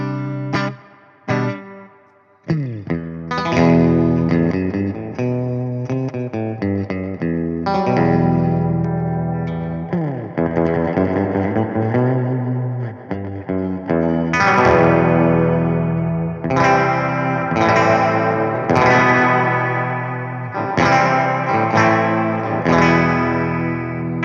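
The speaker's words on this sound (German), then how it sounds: "Tiny Spring Reverb out of the box" Fender Stratocaster electric guitar played through a Tone City Tiny Spring Reverb pedal, loud and up close: strummed chords and picked notes that ring out with a drippy spring-reverb tail, with pauses between phrases and no talking.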